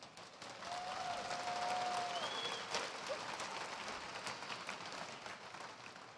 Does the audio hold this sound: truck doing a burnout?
no